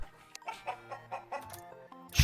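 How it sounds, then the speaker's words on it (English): A chicken clucks just outside a door, a run of short, rhythmic clucks at moderate distance, fairly close and clear, ending in a louder burst. "There's a chicken right outside the door."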